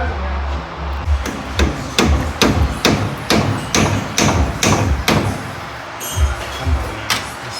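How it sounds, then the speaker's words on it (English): Plastic hammer striking jeep gearbox parts during a gear change in a turbo mail jeep, about a dozen sharp, fairly loud blows in a steady rhythm, with faint voices in the background. "What was that, a plastic hammer?"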